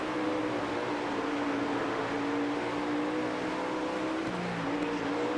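Dirt race cars roar in World of Outlaws Dirt Racing, a dense, steady engine drone with a couple of overlapping pitches from cars running close together, loud and continuous with no talking.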